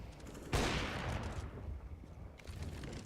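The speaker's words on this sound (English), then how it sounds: "The shots ring out." Gunfire in a Counter-Strike: Global Offensive esports match, a sudden loud burst of shots that rings out and fades, then a second quieter volley, heard faintly within the game mix.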